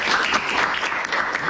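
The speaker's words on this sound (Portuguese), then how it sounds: "faz um aplauso, todo mundo faz aplauso" Students clap together in a classroom, a dense, steady burst of hand claps lasting only a moment, fairly close and fully sustained without pause.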